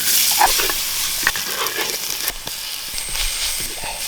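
Onions fry in a pan with chili powder, turmeric and salt for an egg curry, a steady close sizzle with occasional stirring scrapes and clinks.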